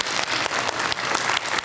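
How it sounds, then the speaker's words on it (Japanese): Audience applause fills the air after a Momomata lion dance (shishimai) performance at a Nara festival, a dense, steady clapping from a crowd that holds throughout with no talk over it. "今一度大きな拍手をお送りください。"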